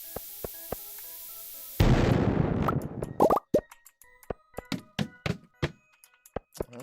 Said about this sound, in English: let's put a bomb here.